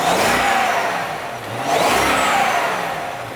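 A pre-facelift BMW E65 B7 with its original supercharged engine, water methanol injection, a different pulley and around 570 horsepower revs loudly and close up in two rising surges with a whining note, no voices.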